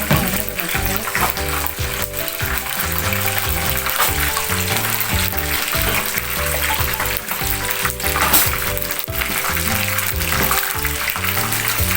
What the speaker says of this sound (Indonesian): Siram minyak panas.